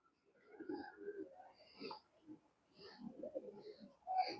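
Tournament-flying Girbaz pigeons, including a large moulting male, give low, throaty coos in short separate bursts with quiet gaps between them, heard close up in a fairly still setting.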